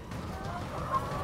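About five hundred laying hens crowd a chicken coop, their clucking and murmuring blending into a steady low din, with one slightly louder call near the end.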